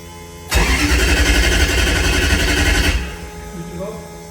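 A Nissan 200SX S13 fitted with a 1UZ engine fires up for the first time in a drift build, a loud roaring burst of about two and a half seconds that then drops to a quieter idle.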